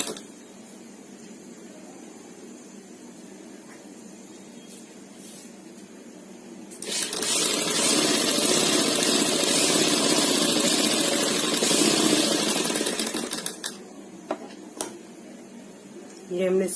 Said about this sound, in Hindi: ये हमने सिलाई लगा ली।